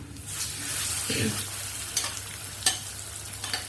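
Adamant creeper stems sautéing in a hot pan with curry leaves and asafoetida for chutney, giving a steady close sizzle broken by a few sharp stirring scrapes near the end, with no talking.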